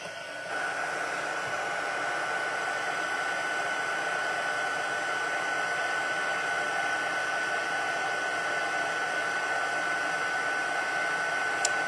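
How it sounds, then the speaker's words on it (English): Heat gun switching on and blowing hot air for crafting, a steady close whoosh with a constant high whine that holds unchanged for the whole stretch, with no voices. "heat up my heat gun"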